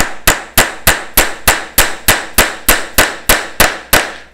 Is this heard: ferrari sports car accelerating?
no